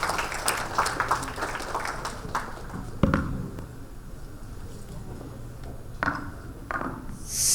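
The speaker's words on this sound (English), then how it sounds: "Can we have a huge round of applause for our first panel?" A crowd at a panel discussion claps in a burst of applause that thins out after a couple of seconds, leaving a quiet room with a few scattered claps.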